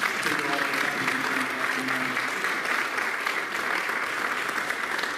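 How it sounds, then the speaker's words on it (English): An audience at a school awards ceremony for graduating seniors in a performing arts center claps steadily and fairly loudly throughout, with faint voices briefly audible early on. "So I think that deserves a little bit of a round of applause."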